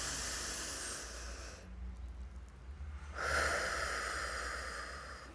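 A long, deep breath taken during a calm guided meditation, a steady airy inhale and exhale that fades briefly and then swells again, close and breathy, with no speech.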